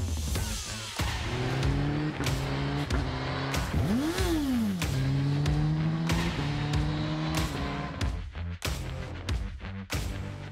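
A Suzuki GSX-S1000GT sport touring motorcycle engine revs repeatedly, pitch climbing and falling in sharp bursts with quick gear-like changes, loud and close.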